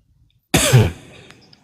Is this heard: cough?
yes